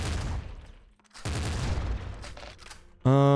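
Bursts of rapid gunfire from a Gatling-style burst weapon in a video game, dense crackling volleys with a short pause before a renewed burst, ending in a loud tonal blast.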